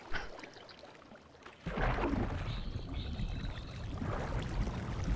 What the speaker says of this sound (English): I'm gonna go swim through water to get back to the main area.